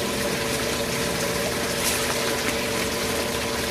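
Water rushes steadily through an overfed sluice box, bubbling over its end, a constant loud broadband gush with a low pump-like hum underneath and no speech.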